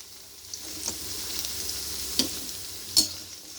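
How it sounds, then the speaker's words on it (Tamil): Brinjal sautés in a pan with a soft, steady low sizzle. A few sharp clicks of a spoon stirring against the pan break through, the loudest near the end. "இப்போ இந்த கத்திரிக்காவும் வதங்கிடுச்சு ஃப்ரெண்ட்ஸ்."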